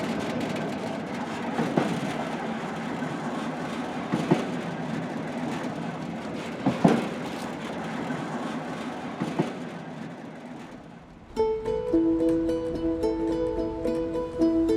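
A northbound freight train rolls across the country with the listener riding in an open wagon, a broad rumbling roar with scattered clanks and jolts that fades, then gives way to a steady tonal hum near the end.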